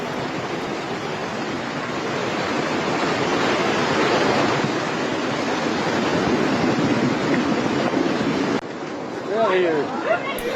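Flash flood water rushing over highways in Morocco, a loud continuous broadband roar of churning water that holds steady for most of the stretch before briefly dropping off near the end.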